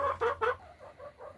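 Hens cluck inside the hen house of a small egg-production flock of about thirteen birds: three loud, close clucks in quick succession, then a run of softer, lower clucks trailing off.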